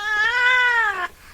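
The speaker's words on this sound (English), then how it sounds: "Little cat. She got a lot to say." A small cat in a house gives one long, drawn-out meow, close and clear with a rising then falling pitch, heard alone.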